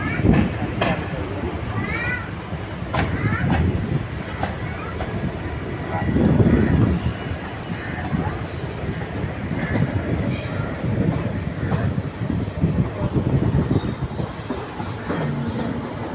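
A passenger train runs from Nagapattinam to Karaikal with a steady loud rumble and rattling carriages, heard from on board under ongoing chatter and voices.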